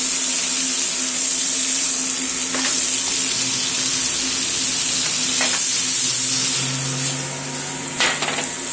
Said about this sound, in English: While that butter's melting